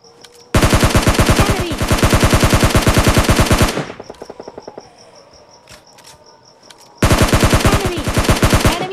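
Bursts of rapid automatic fire from an M416 rifle in the PUBG Lite battle game, a long loud volley followed by a quieter lull with scattered distant shots, then another loud burst starting near the end.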